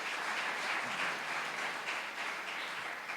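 A church congregation applauds during a Sunday morning service at a carnival retreat, a steady even wash of clapping from many hands that holds at moderate level throughout without a break.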